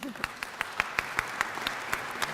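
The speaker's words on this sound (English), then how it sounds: "praise and applause" At a luncheon marking the 100th anniversary of Albanian independence in Washington, a small group claps for honored guests, with sparse, separate hand claps at an even rhythm over a low murmur of voices.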